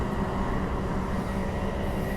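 A six-car out-of-service train passes nearby on a suburban rail line, a loud continuous rumble and roar of wheels on track with faint squeal, heard alone.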